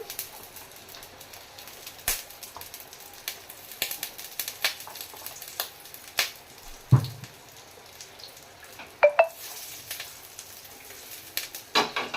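Ghee sizzling and spattering in a hot pan while cooking dahi gosht, with scattered sharp crackles and pops over a quiet bed of frying hiss, nearby and moderately loud.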